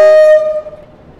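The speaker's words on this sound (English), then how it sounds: "the driver's blowing the horns for the first time in train sim world properly" Train horn sounding in Train Sim World 4 on the Blackpool branch line, a single loud sustained tonal blast cutting off abruptly with a ringing tail that decays over half a second.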